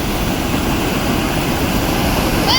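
A small mini waterfall at Smokey Hollow on the Bruce Trail in Waterdown, Ontario, in March snow, roars steadily and close by, a dense unbroken rush of falling water with no voices.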